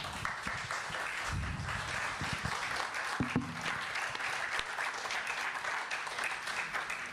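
Audience applause at a talk on trade unionism in the Catalan Countries, sustained dense clapping from a large room that holds steady for several seconds.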